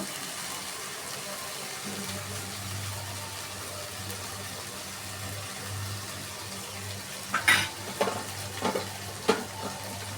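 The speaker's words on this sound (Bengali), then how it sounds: "আবারও ভালোভাবে নাড়তে থাকবো" Bottle gourd simmering with beef bones and meat is stirred in a pot, a soft steady sizzle underneath with a few brief scraping clatters of the spoon near the end.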